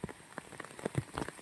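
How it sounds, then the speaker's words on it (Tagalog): Rain patters on a surface on a mountaintop among village houses, with scattered close drops tapping irregularly in a brief burst. "Ulan."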